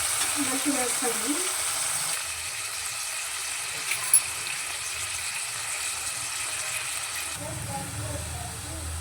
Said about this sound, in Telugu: కరివేపాకు, పచ్చిమిర్చి వేసి కలుపుకొని ఆనియన్స్ గోల్డెన్ కలర్ వచ్చేంత వరకు వేయించాలి